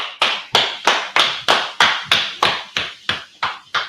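A class claps together in a steady rhythm, about eleven sharp, loud claps spaced evenly at roughly three per second, each ringing briefly in a room with no talk over them.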